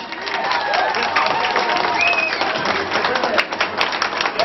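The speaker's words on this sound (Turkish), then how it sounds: "Alkış." A crowd claps and cheers steadily while people talk over the applause, with some sharp whistles and scattered louder claps toward the end.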